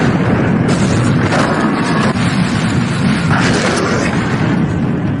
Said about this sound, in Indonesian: kemudian meledakkan bom yang telah ia tanam di dalam tubuh anak buahnya